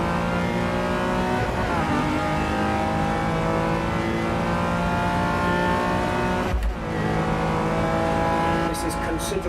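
Race car engine in Assetto Corsa EVO, a driving game, revving hard and accelerating continuously and loud up close, with a brief dip partway through before it climbs again.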